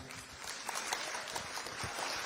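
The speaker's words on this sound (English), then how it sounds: "I think we deserve a round of applause for that" Audience applause at a live Delta State security trust fund launch event, a steady wash of clapping with scattered louder claps throughout, moderately loud and continuous.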